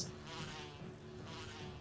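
A swarm of bees buzzes in the video game Resident Evil HD, a close, continuous insect drone that wavers in pitch and swells slightly over a couple of seconds.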